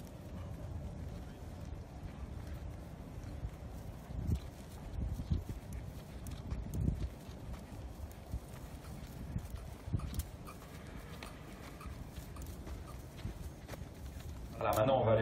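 A horse, part Arab, walks on ground at an Anglo-Arab horse show, with soft repeated hoof clip-clops at a slow rhythm under someone talking over a loudspeaker throughout.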